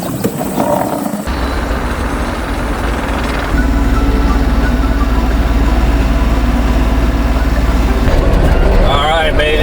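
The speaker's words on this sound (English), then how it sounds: "Back with the excavator." An excavator's heavy diesel engine runs near the woods, giving a loud, steady low drone that holds without pause throughout.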